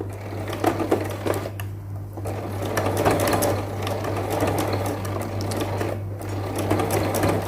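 A sewing machine stitches lace fabric in a fast continuous mechanical chatter, close and steady, over a constant low electrical hum, with brief pauses in the stitching.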